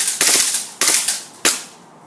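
A Glock 18C airsoft gas blowback pistol fires full auto in three short, sharp bursts of rapid cracks, each separated by a brief pause, close and loud with no talking.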